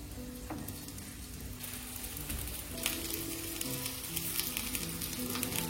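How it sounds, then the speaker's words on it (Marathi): Potato patties shallow-fry in oil on a hot tava with a steady, close crackling sizzle, spattering pops throughout and no voices. "फक्त शॅलो फ्राय करायचं आपल्याला"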